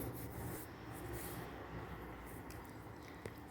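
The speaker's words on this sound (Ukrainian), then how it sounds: "Залишки клея прибираємо серветкою." A paper napkin rubs over paper to wipe away leftover glue during a paper appliqué craft, giving a steady soft scraping and rubbing texture for several seconds, close and fairly quiet, with no talking.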